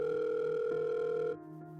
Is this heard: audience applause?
no